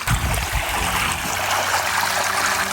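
Flood water released from a duck pond rushes and gurgles into a dug trench, a loud, continuous churning flow heard close up without talk.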